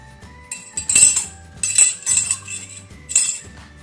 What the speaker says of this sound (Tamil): அதில் இந்த ஓமப்பொடி அச்சு உள்ளார போட்டுக்கலாங்க.